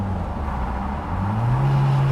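A Toyota MR2 Mk1 with a 4AGE engine driving through a tunnel, heard as a steady low engine drone with a slowly rising tone near the end.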